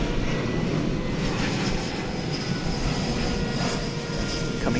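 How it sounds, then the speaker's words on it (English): American Airlines Airbus A321 jet arriving at DFW Airport at night, a steady broad roar of engines with a faint high whine, continuous and fairly distant throughout. "American Airlines flight from Phoenix, Arizona. Airbus A321"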